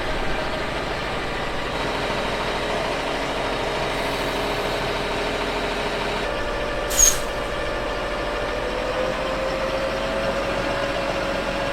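A tractor-powered slurry mixer driven by the tractor's PTO at 1000 RPM drones continuously at a constant pitch, with a brief sharp hiss partway through and no voices.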